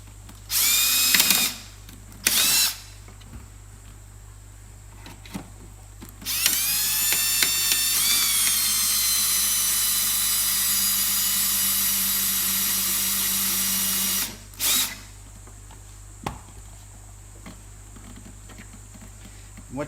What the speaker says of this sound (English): What you're essentially doing is drilling through the little plastic catch